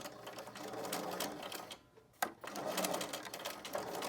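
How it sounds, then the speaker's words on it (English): Sewing machine running steadily as it top stitches along the edge of a pleated T-shirt fabric face mask, a close continuous whirring with a brief pause near the middle before resuming. "I like to sew just right along the edge."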